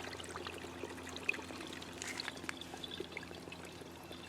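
Solar-powered pump filling an upcycled bird bath with water makes a faint, steady trickle and light splashing outdoors, with soft background noise throughout.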